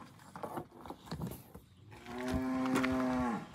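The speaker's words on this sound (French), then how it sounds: "Il y a de la vache." A cow moos once, long and loud, near a deserted Spanish mountain village, after a stretch of faint scattered outdoor noises.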